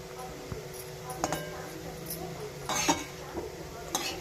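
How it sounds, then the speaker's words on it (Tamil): A ladle scraping and clinking inside an iron kadai while garlic kuzhambu simmers on low heat, sparse metallic taps and knocks at an unhurried pace, fairly faint, with a person talking in between. "சிம்மில் வச்சுட்டே கலரி விடுங்க"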